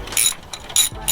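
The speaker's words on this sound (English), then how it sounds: "The breaker bar, it's easy. So loosen" Breaker bar with ratchet loosening a brake caliper bolt on a Mazda 3, three short close metallic clicking bursts in quick succession.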